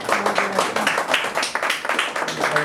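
An audience claps steadily at a live talk event before a break, a dense patter of many hands close by, with no pause throughout.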